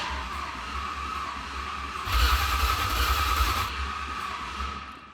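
An 800-horsepower Cobra Mustang engine, abandoned for 20 years, cranking over on the starter without firing: a steady mechanical churn with a louder surge in the middle, close and continuous, no voices.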